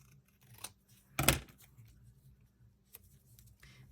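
Scissors trimming paper for a December Daily journal page, with one clear cutting snip in the middle and a few fainter snips and rustles around it, close and quiet.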